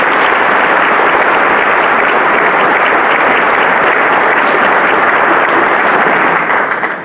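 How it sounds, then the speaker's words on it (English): An audience applauds a speaker being welcomed to the stage at a talk in Fort Wayne, with dense, loud, continuous clapping that holds steady for several seconds before starting to fade at the end. "Wow, this is a pretty good applause."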